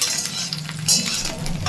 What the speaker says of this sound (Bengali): এই তেলের মধ্যে দিয়ে দিচ্ছি বেগুন, বেগুনটাকে আগে ভেজে নেব